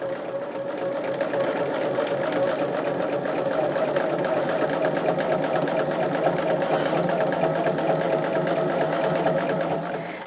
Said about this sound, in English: I am sewing this flange on probably at about an 1/8 inch